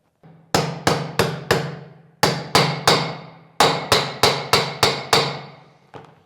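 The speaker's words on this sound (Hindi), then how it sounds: "अभी टैपिंग की जो साउंड है उसके डिफरेंस से आप समझ ही गए होंगे" Sharp metallic taps on a socket fitting a bearing into an Activa scooter gearbox, in quick groups of four and five, each ringing briefly, with short pauses between groups and one softer final tap.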